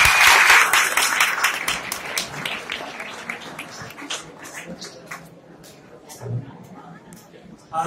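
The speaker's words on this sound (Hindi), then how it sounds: "तालियों के साथ इनका स्वागत करते हैं" Applause at a government ITI convocation ceremony in Ratlam, welcoming a guest onto the stage: dense clapping loudest at the start, gradually thinning over several seconds with a voice and some murmuring underneath.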